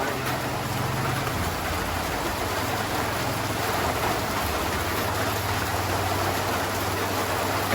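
Rain falling steadily, a constant broadband hiss of drops on surfaces with a low engine-like hum running underneath, unchanging and without speech.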